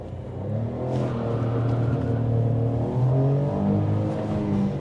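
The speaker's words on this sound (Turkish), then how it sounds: "Hadi bakalım şurada bir gazlama yapalım." A Fiat Panda's three-cylinder hybrid engine revs repeatedly nearby, its pitch climbing and dropping in several throttle blips over a low, steady idle.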